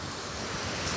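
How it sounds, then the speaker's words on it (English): Strong wind buffets the microphone on an open shore by the Solent, a constant loud roar with surf mixed in, no voices. "Please excuse the fact that it's a little bit windy."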